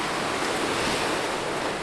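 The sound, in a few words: sea waves crashing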